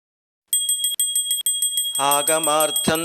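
A brass puja hand bell (ghanta) rings during Varahi Navaratri worship, starting with bright repeated strokes alone, then continuing as a voice chants over it.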